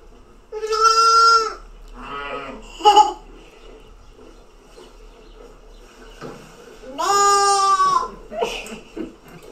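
A goat bleats loudly in two long, wavering cries several seconds apart, each followed by shorter bleats, heard close against a quiet background.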